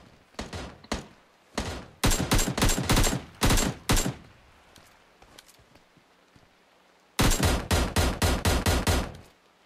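Bursts of rapid gunfire in a multiplayer shooter video game, several loud volleys of fast repeated shots with short pauses between, ending in a long sustained burst.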